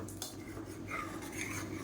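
A spoon stirs curry in a pressure cooker, scraping and clinking against the metal pot in short close strokes, alone without talk.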